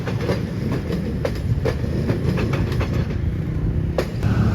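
Local train running from Ciroyo station toward Bandung, passing close with a loud low rumble and a series of sharp rhythmic wheel clacks over rail joints, steady throughout.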